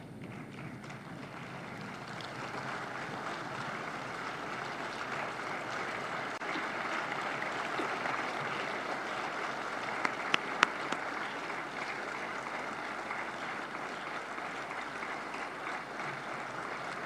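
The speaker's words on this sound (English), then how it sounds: "kindly please rise as we welcome our guests of honor with a round of applause" A conference hall audience at a nuclear energy investment plenary in Kigali gives a sustained round of applause for the guests of honor, a dense, even wash of clapping that holds steady throughout at moderate distance.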